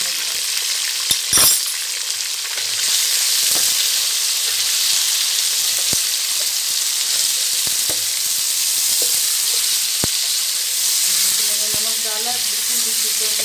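Chicken frying in hot oil, part of a tinday gosht preparation, gives a steady broadband sizzle with a few sharp utensil clinks near the start and scattered later, continuous and fairly close with no talk.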